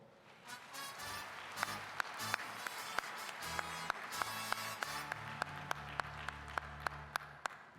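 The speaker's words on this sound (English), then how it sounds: "Please give him a warm round of applause." Scattered applause from an American Legion youth champions audience, light clapping with distinct individual claps standing out, over a low background tone.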